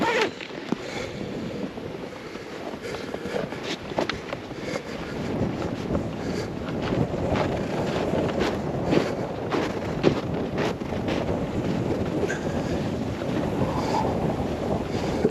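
Strong gusting wind buffets a microphone on a frozen lake at a winter ice camp, producing continuous low rumbling roar with irregular thumps and flutters, loud and close throughout.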